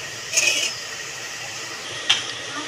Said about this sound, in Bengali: ব্যাস, একটা ঢাকা দিয়ে দেবো তাড়াতাড়ি ফোটার জন্য।